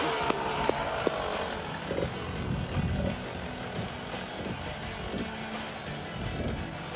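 A dirt bike engine revs and strains while climbing a steep off-road hill, buzzing at moderate distance with fluctuating pitch and a few sharp knocks early on.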